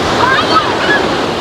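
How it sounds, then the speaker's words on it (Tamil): Strong ocean waves crash on a shore in overcast, rainy weather, a loud continuous roar of surf mixed with wind buffeting the microphone. "இன்னும் ஒரு பயங்கரமாக அடிக்குது அலை."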